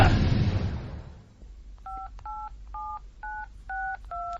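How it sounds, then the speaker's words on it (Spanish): A mobile phone keypad sounds a quick run of clear two-tone dialing beeps, six or seven evenly spaced presses after a fading burst of noise, close and loud. "Intentar llamar a un número extraño y larguísimo."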